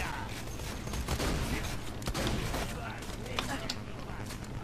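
Weapons fire in Borderlands 2, with dense rapid bursts of shots and clatter running throughout while people talk over the action.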